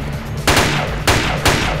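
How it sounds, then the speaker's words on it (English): Gunfire in ARMA 2 Project Reality: three loud, sharp rifle shots spaced about half a second apart, ringing out close over a low background hum. "Who's that shooting?"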